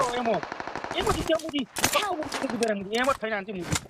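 Rapid bursts of gunfire from a shooter video game crackle beneath excited players talking over each other almost continuously.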